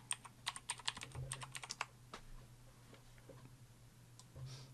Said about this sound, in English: I just type here python.org/